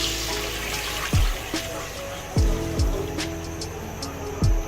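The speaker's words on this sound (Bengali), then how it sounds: "এখন আমি এটার মধ্যে পানি দিব" Water is poured into a pot of pre-soaked rice simmering in oil for biryani, splashing and bubbling with a few distinct plopping bursts over a low background.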